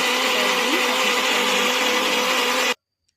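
A kitchen blender whirs loudly and steadily, grinding green chutney paste for momos, then cuts off abruptly near the end.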